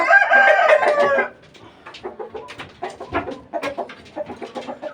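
A rooster in a backyard poultry coop gives one loud, close crow, followed by a steady run of softer, scattered clucks from the hens around it.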